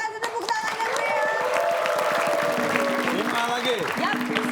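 Studio audience at an Indonesian TV quiz show breaks into sustained applause, a steady wash of clapping with a host's voice and music-like tones running over it.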